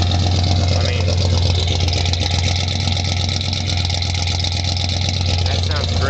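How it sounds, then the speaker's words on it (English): Dual exhausts on a 1976 Ford F-100 Ranger pickup idling nearby, a steady low rumble that stays loud and even throughout while someone talks over it. "You can hear those dual exhausts back here."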